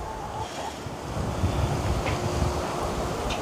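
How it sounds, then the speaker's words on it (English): Wind rushes and buffets the microphone steadily, a low roaring gust with no voices. "It's a little windy here today."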